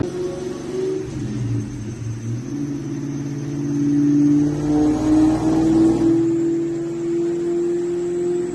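A Sonic Blue Terminator Mustang with a 2.3 Whipple supercharger revs in a low, heavy rumble with a whining tone that climbs and swells midway before settling, heard close and without talk.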